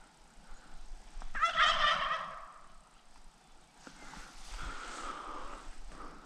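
A small flock of young wild turkey jakes on public land in Montana, with one bright rattling gobble close by and softer fowl calls after it in open outdoor air.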